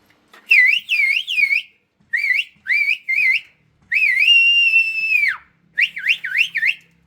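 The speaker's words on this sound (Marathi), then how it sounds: "मामा शिट्टी वाजवा थोडी तरी आमच्यासाठी मी वाजवत असतो" A man whistles loudly and close by in short warbling bursts, then holds one long steady note before ending with quick rising trills, with no talk.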